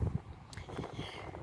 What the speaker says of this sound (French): Vous avez vu, il y a du vent.